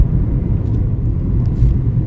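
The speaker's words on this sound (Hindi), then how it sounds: "सीमेंटेड हाईवे है, स्मूथ है, गाड़ी आराम से, मैं 80 पे चला रहा हूँ अभी।" Car cruising at 80 km/h along a smooth cemented highway, heard from inside as a steady, low road rumble and engine drone with no talk.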